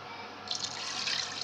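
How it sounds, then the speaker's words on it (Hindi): A glass of water poured into a pot of beef yakhni pulao with browned masala and yakhni stock, a short close splashing pour that swells after a brief start. "1 गिलास पानी ऐड कर देंगे।"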